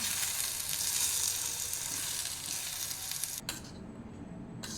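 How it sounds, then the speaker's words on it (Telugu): Spinach stirred into hot oil in a pan for a garlic spinach dish sizzles steadily and fairly loudly, then the frying noise drops away abruptly near the end. "ఇప్పుడు పాలకూర వేసుకుంటున్నాం ఫ్రెండ్స్. బాగా కలుపుకోవాలి"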